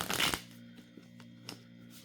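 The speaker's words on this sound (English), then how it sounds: "Shuffling real quick." A quick burst of tarot card shuffling opens, followed by a few soft taps and flicks of cards over a low hum.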